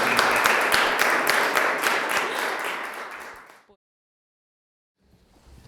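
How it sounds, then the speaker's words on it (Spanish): Audience at a university presentation in Seville applauding three presenters: a steady burst of many hands clapping that tapers off and stops, followed by near silence. "Que queréis aplaudirles a los 3, les aplaudís."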